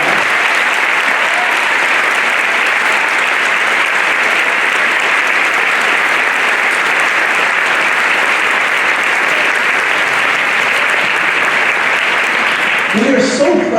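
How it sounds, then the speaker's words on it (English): A packed high school gym at a Veterans Day assembly applauds service members: loud, sustained, even clapping from a large standing audience for over ten seconds, breaking off near the end as a voice begins. "Please stand and give them a round of applause."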